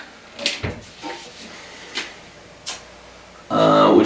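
A drawer in a home studio is handled, with several light knocks and clicks spaced across a few seconds, then a sudden louder sliding rumble as it is pulled open, while a person talks at the end.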